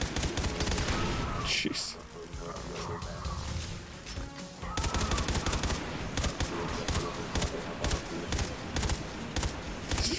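Gunfire in the video game Far Cry 3 Blood Dragon, dense bursts of rapid shots, loud and close, with a short lull then renewed firing, while a player talks over it.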